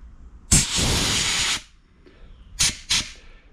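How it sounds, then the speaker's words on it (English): Bursts of spray and compressed air blown through small engine parts during a lawn equipment repair: one long loud hiss lasting about a second, then two short sharp blasts, each standing alone and close. "You have to spray them, and you have to blow air through them."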